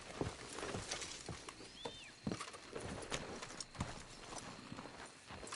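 Horses walking in the Western video game Red Dead Redemption 2, a steady clip-clop of hooves on the ground with a brief whinny, close and moderately loud over faint ambient background.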